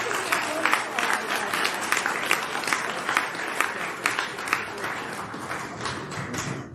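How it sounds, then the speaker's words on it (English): An audience applauds to welcome Alan Dershowitz as a speaker, giving moderately quiet but steady clapping with scattered sharp claps and some crowd noise, lasting several seconds. "will you join me with a great round of applause welcoming Alan Dershowitz"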